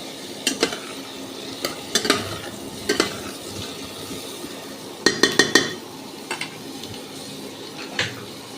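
Potatoes stirred in a pan of chicken curry, a steady low sizzle broken by repeated clinks and scrapes of a metal spoon against the pan, several in quick clusters, with no voices.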